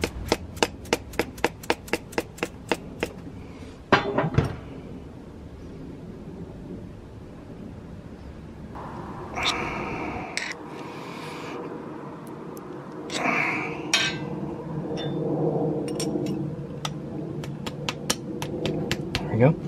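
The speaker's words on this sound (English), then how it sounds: "see if I can just get a hammer and rub it in now" A hammer taps a bearing into the jackshaft of a Sur Ron Light Bee electric dirt bike in a quick run of about a dozen sharp, evenly spaced metallic strikes up close, then a few scattered knocks, shuffling and handling noise follow.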